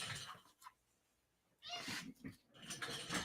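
A cat makes short nasal sounds, close to the mic, with a quick sneeze-like burst and a couple of breathy meow-type calls between stretches of quiet.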